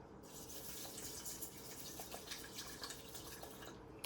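Water poured from close by into a rice cooker pot, a steady splashing, trickling stream that runs unbroken for about four seconds.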